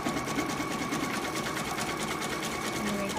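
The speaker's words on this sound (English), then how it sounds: "this next stitch is it's gonna baste across the top, and then it's gonna tack it down around the rest" An embroidery machine hums and stitches continuously while basting across a fabric pennant, a steady close mechanical whir with rapid needle chatter and no break.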